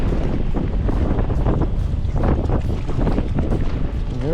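Strong wind gusting at a lakeside bank during fishing, loud rough buffeting close to the microphone, continuous and uneven throughout.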